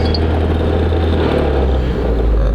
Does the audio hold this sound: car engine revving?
yes